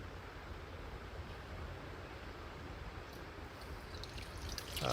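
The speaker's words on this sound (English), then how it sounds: "Now I will water these plants with the pipe slowly" Water flows slowly from a pipe onto freshly planted rain lily bulbs in soil, a steady soft even wash of gentle splashing that runs on without a break and swells slightly toward the end.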